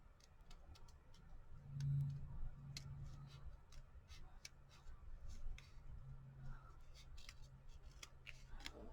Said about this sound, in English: Let's see if I can trim this off.